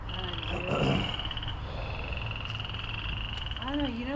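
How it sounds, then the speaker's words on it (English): A frog croaks in a damp outdoor spot, a repeated rhythmic call that carries steadily through the whole stretch under a faint hiss of background noise, with a brief voice heard near the end. "I hear my frog friend calling."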